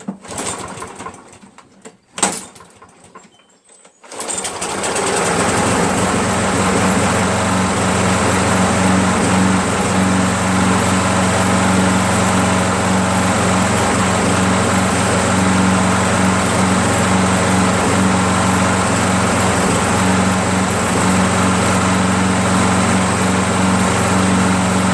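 A Craftsman 7HP lawn mower engine that runs rough and starts hard. After a few seconds of faint sound and a brief pull, it catches and runs loud and close, a steady buzzing drone for the rest of the clip.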